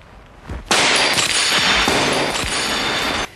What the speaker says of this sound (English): So let's break more windows.